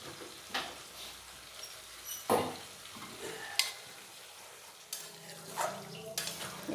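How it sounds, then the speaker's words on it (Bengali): Chana masala with yogurt stirred in a pan, a faint soft sizzle under scattered scraping and clinking strokes of a spoon against the pan, quiet and close. "এবারে ভালোভাবে নেড়ে মিশিয়ে নেব।"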